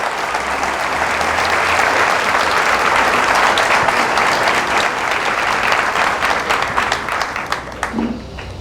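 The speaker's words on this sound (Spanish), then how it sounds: "Fuertes aplausos al Señor Jesús." Loud, sustained applause from a church congregation praising the Lord, dense clapping filling the space for several seconds before thinning toward the end.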